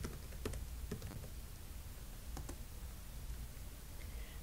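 Quick, soft clicks of typing on a computer keyboard while entering text into an Excel spreadsheet, with irregular bursts of keystrokes over a low steady background hum.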